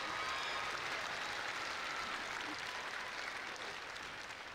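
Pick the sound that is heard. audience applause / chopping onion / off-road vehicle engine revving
audience applause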